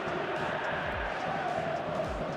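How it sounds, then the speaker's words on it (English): A packed stadium crowd in the eFootball video game makes a steady, dense roar of massed voices that holds at an even level throughout, with no single voice standing out. "The stadium is full of noise and energy."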